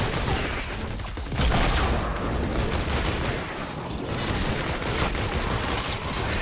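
Rapid gunfire in the Fortnite: Save the World shooter game while a barrel is shot, a dense, continuous loud rattle of shots blended with game effects and booms, with no pause across the stretch.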